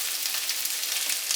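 Cumin seeds crackle and sizzle in hot oil in a pan while being stirred, a bright continuous hiss up close with tiny pops throughout the short burst.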